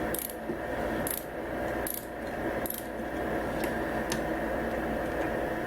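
Ratcheting offset screwdriver working throat plate screws out of a Blue Sky 1501 sewing machine, with a run of sharp, close clicks spaced about a second apart over a steady background hum.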